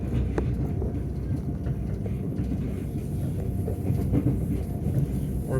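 A Southern class 377 electric train runs near Norwood Junction, heard from on board as a continuous low rumble of wheels and motors with faint rhythmic clatter over the track.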